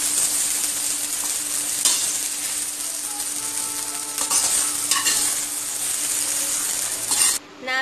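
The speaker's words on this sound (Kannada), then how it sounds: "ಟೊಮೆಟೊ ಫ್ರೈ ಆಗ್ತಾ ಇದೆ, ಇನ್ನೂ ಸ್ವಲ್ಪ ಫ್ರೈ ಆಗಬೇಕು." Green tomatoes fry in a pan for a spicy chutney, with a continuous close sizzle and repeated scraping of the stirring utensil, ending in a brief clatter.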